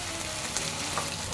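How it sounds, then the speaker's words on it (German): Potato pancakes frying in a pan give a steady, even sizzle with faint crackles and spits throughout, close and moderately quiet with no talking. "Dann setzen wir die Kartoffelpuffer in die Pfanne. Ja, das zischt nur ein bisschen."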